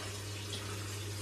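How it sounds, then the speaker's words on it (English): A hot water tap runs steadily into a sink, a constant close hiss of flowing water with a low hum beneath it, unbroken for the whole moment. "You run a hot tap."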